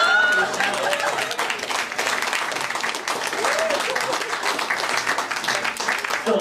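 A live show audience claps and cheers in sustained applause for two performers, a dense crowd sound that fills the whole stretch.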